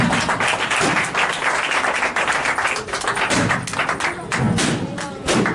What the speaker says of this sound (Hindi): Give a big clap for them.